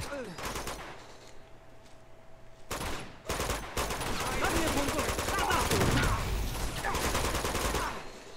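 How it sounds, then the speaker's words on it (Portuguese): Enemy gunfire in the action game Uncharted 2: Among Thieves, bursts of rapid automatic fire and scattered shots from several directions, dense and loud, with someone talking over parts of it. "Tem cara atirando na gente de todos os lados, mano."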